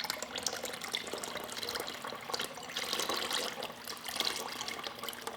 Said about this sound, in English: let's pour in my lye water